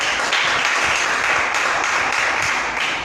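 A church congregation applauds during a worship service, a dense, steady wash of clapping from many hands that fills the space evenly from start to finish without talk.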